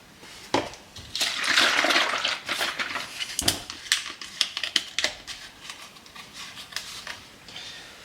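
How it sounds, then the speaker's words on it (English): Cream is poured into a gingerbread cold brew, giving a splashing, trickling pour near the start, followed by clinks and taps of a cup and utensils, all close and alone. "Pour the cream."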